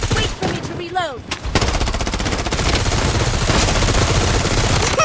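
Sustained gunfire in the video game Blood Strike, continuous rapid automatic bursts that build after a brief pause and stay loud and dense to the end, with a few faint voices at the start.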